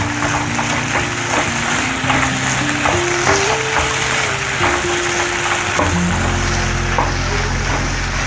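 Chicken roll masala with chopped spring onion fries in a pan while being stirred, a loud, continuous sizzle with scraping stir strokes and a low steady hum beneath, no talking.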